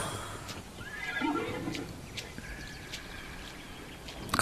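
A horse in the Immortals Fenyx Rising video game whinnies once in a high, wavering neigh, followed by faint clip-clopping hooves and light ambient birdsong, no speech.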